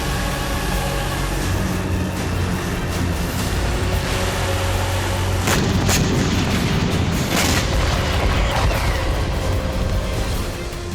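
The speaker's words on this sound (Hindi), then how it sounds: "किम जोंग ने ताबड़तोड़ मिसाइल टेस्ट फायर शुरू कर दिए हैं।" North Korean ballistic missile test launches produce a loud, continuous rumbling roar that stays steady throughout, broken by a few sharp cracking bursts near the middle, with no voices.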